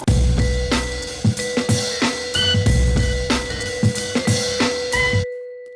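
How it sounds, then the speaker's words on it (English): A leaf blower blasts dry dirt off a log that is about to be milled into beams, roaring loudly in repeated surging bursts at close range, then cutting off abruptly to leave a fading tone. "Go with a leaf blower."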